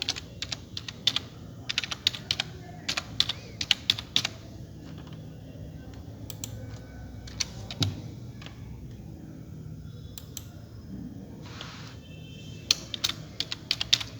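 Quick bursts of computer-keyboard typing enter city names, with clustered keystroke clicks separated by pauses and a quiet stretch in the middle.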